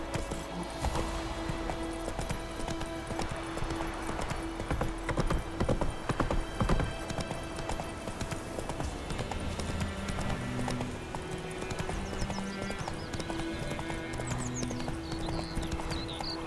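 Hooves of the horse Roach clip-clop steadily in the fantasy game The Witcher 3, a continuous close trotting rhythm over ambient game music and background sound, with a brief whinny-like note.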